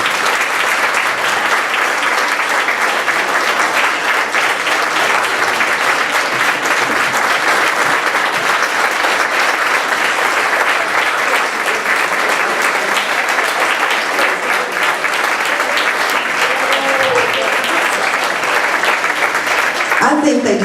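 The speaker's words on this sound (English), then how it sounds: "I'd love for them all to stand up for us to give them a huge round of applause" Audience applause for standing award recipients at a church event: loud, dense, sustained clapping from a large crowd that keeps an even level throughout, with a faint voice or cheer near the end.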